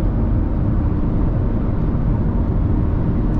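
A Chevrolet S10 High Country pickup cruises at highway speed, around 120 km/h, giving a steady, loud rumble of road and wind noise from inside the cabin, with no breaks and no talking.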